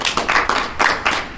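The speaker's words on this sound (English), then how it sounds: "Let's give him a round of applause" A small audience at a Narcotics Anonymous meeting claps for a speaker from the D.C. area, with bursts of hand claps swelling and easing in waves over a short stretch, fairly close and with no talking.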